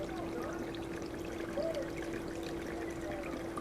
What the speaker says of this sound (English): If I turn this pump up a little bit, it really just sprays right out there.